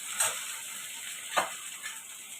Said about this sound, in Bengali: টমেটো কুচি দিয়ে দিলাম